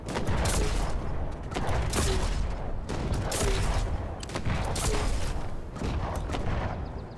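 Fortnite SMG fire: dense, loud bursts of rapid gunshots in quick clusters, near and continuous across the whole stretch with brief dips between volleys and no clear talk.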